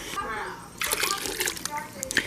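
Compost tea poured into swamp water, a splashing, sloshing pour that starts soft and grows into a busier burst of liquid splatter, with a voice faintly audible.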